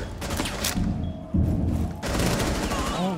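Gunfire in Rainbow Six Siege: a few sharp, loud shots and short bursts in quick succession, close by, with thuds between them and a voice talking over the action.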